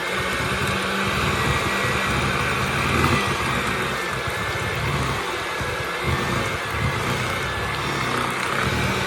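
An electric hand mixer whirs steadily, its beaters creaming ingredients for veggie bars in a continuous, fairly loud motorized buzz with no voices.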